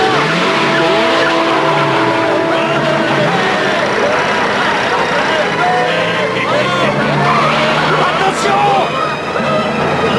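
A car skids during a driving lesson, with loud continuous tire squeals and engine noise throughout, overlaid with chaotic effects and voices speaking.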